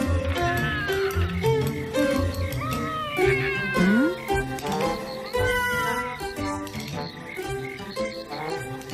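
A cat meows a few times in an animated series, over a busy background of music and other sounds, the calls rising and falling in pitch.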